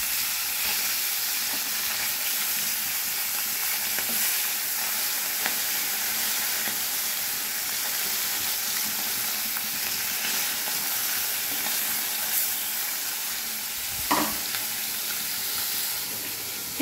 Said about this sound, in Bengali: অনেকগুলো মাছ আমি দুবারে ভেজে নেব। এবারে মাছগুলো আমি উল্টিয়ে দেব।